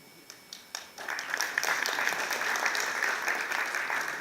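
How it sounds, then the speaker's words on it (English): A few scattered claps swell within a second into full, sustained applause from a conference audience as a presenter is called onstage, loud and continuous to the end. "the applause should be a little bigger for her"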